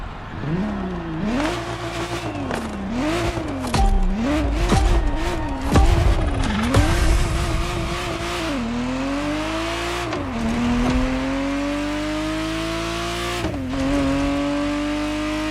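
Ferrari Testarossa in The Crew Motorfest revs loudly through repeated rising and falling sweeps, climbing through gears with sharp shifts before settling into a long steady high-rpm drone, the engine close and alone.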